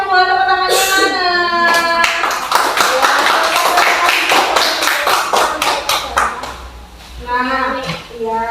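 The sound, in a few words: class applause for group 2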